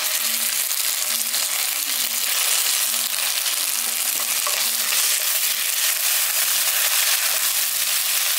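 Ginger-garlic paste sizzles in hot oil with reddish-browned onions for an Echor Chingri curry, a steady dense crackle running throughout with repeated soft scraping stirs and no voices.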